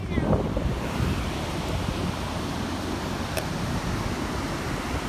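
Surf on a beach, a steady broadband wash of waves mixed with wind buffeting the microphone, continuous and fairly close, with a brief faint tick partway through.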